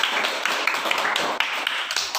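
A classroom of elementary pupils applauds in a dense, steady patter of many hands clapping, loud and close, lasting a couple of seconds.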